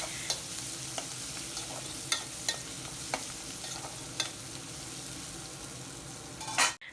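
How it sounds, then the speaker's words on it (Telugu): Pieces of drumstick (moringa pod) fry in hot oil for a village-style brinjal and drumstick curry, giving a steady close sizzle broken by a few sharp spattering pops and a louder stirring scrape at the very end. "ఈ విధంగా ఒక్కసారి ఆయిల్లో ఈ మునక్కాయని కూడా ఫ్రై చేసుకొని"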